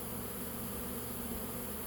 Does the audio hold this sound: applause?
no